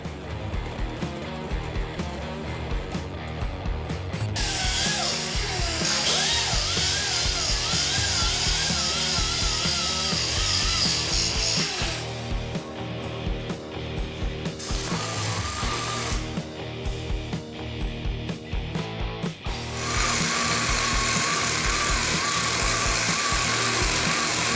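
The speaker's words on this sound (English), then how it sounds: "The first thing I gotta do is chop up a couple of pieces of scrap metal for the lower mounts" A power tool chops scrap metal pieces into lower shock mounts for a custom swing arm on a Honda three-wheeler conversion, in several loud grinding, whining bursts separated by a lower steady drone.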